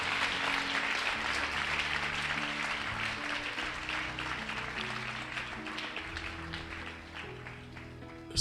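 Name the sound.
congregation applauding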